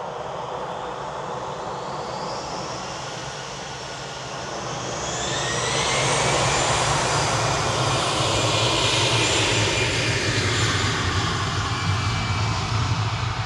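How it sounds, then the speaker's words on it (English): An EasyJet Airbus A320 Classic bound for the Isle of Man roars past at Manchester Airport before dawn, a broad hissing jet rumble that swells after a few seconds and holds steady, fairly distant, with no voices. "GZUA, A320 Classic."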